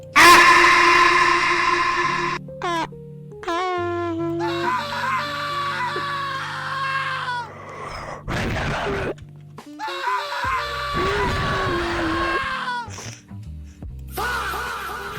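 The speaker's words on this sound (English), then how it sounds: "So he just screamed." A video game character screams and wails in a run of harsh, strained vocal bursts and groans, loud and close, broken by brief gaps and sharp noisy hits.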